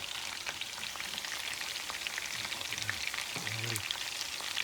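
Meatballs fry in a pan with a dense, crackling sizzle that stays loud and continuous up close, while a few soft low scrapes and bumps mark them being turned over.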